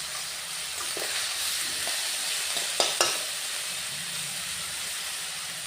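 Garlic paste frying in a pan for a chicken dish, a quiet continuous sizzle with a couple of sharp clinks of a utensil against the pan midway.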